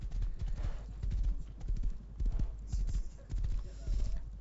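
Horse hooves in the video game Rust clip-clop in a steady, close, rhythmic patter of soft thuds that runs the whole way through.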